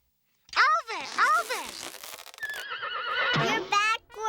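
A horse in a Wild West setting gives a loud, close whinny, a series of wavering, rising and falling calls over a few seconds, with people talking.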